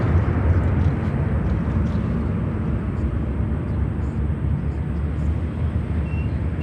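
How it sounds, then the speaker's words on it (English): A Boeing 777-200 freighter comes in to land at O'Hare, its engines making a loud, steady, broadband jet roar that holds without a break from start to finish. "we also have a super interesting 777-200 freighter coming down here"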